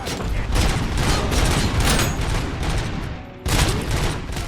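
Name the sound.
heavy machine gun fire in the video game RoboCop: Rogue City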